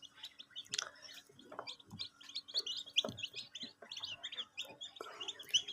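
Newly hatched quail chicks from a homemade incubator, a busy scatter of tiny high-pitched chirps and peeps, quiet and close, continuing without pause.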